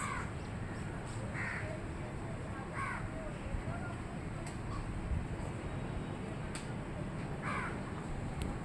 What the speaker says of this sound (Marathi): कावळे पण यायला लागले सगळे